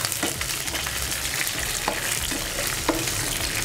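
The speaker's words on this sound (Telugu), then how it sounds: "వేగిన తర్వాత మనం ముందుగా తరిగి పెట్టుకున్న పచ్చిమిరపకాయలు వేసుకొని కలుపుకుందాం" Green chillies sizzle in a hot tempering for ivy gourd chutney, stirred now and then. A steady, loud frying hiss is broken by brief scraping stirs, with no talking.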